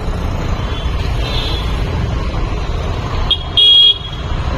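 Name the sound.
road traffic with car horns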